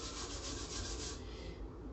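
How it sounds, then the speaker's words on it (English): Steady, continuous sanding of a guitar neck's finish, an even abrasive rubbing that holds at a close, constant level for a couple of seconds. "I'll just go ahead and make it equal sanding"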